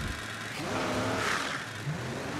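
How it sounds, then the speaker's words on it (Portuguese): A poorly modelled Lamborghini Diablo mod engine in the video game BeamNG.Drive revs briefly with a buzzy, synthetic tone rising and falling over a couple of seconds, alone and fairly close. "o barulho do motor tá horrível"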